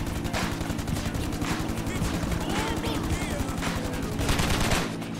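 Rifle gunfire in GTA Online, a dense, continuous stream of rapid automatic shots that stays loud and close the whole time, with someone talking faintly beneath it.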